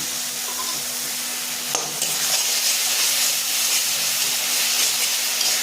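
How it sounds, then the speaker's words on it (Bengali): Spice paste frying in a pan for a Bengali rohu fish kalia, a steady close sizzle and hiss with faint stirring, no talking. "মশলাটা যখন কষানো হয়ে যাবে"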